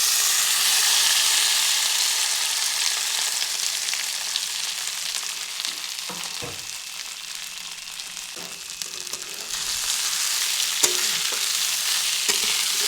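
Rice frying in ghee with cloves, cardamom and cinnamon for sweet Basanti polao, a loud continuous hiss and sizzle close by that eases slightly midway, punctuated by a few soft scrapes of stirring.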